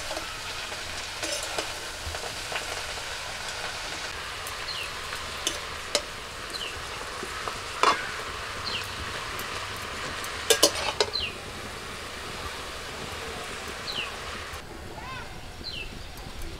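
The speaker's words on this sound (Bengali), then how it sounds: "বেশিরভাগটা বেতে শাক আমি ভেজে ফেলছি" Bathua greens fry uncovered in a pan with a steady, soft sizzle while a spoon stirs them, adding occasional sharp clinks and scrapes against the metal. The sound stays continuous at close range.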